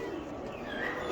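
Old-breed golden pigeons cooing softly in a loft, a low steady murmur of coos with faint chirps over constant background hiss, no voices.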